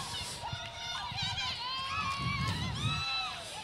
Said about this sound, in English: the crowd goes wild up in turn number 3